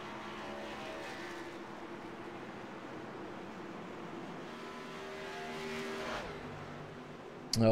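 Race cars rolling down pit road under caution in iRacing at Charlotte, a steady engine drone with shifting tones that swells slightly before easing off, ending with a sudden louder burst.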